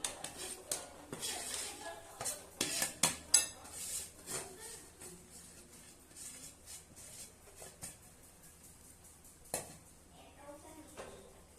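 A utensil scrapes and clinks against a heavy-bottomed pan as ground chana dal is stirred into jaggery syrup for sweet paruppu poli. The knocks are irregular, close and fairly quiet, and soft talking can be heard underneath.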